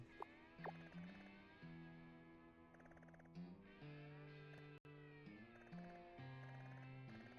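A cat meows repeatedly in long, drawn-out, wavering calls, fairly loud and close, with short pauses between them and a steady background hum underneath.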